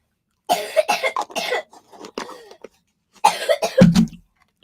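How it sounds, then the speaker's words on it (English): Several coughs and throat-clearing bursts from sick children, coming in two clusters with a pause between them, fairly close and loud, with no talking over them. "You hear coughing in the background with sick children"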